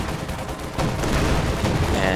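Gunfire in Company of Heroes 2 on the Hill 331 map, a dense, continuous battle roar of machine gun bursts and shots that gets louder partway through, with faint talk mixed in.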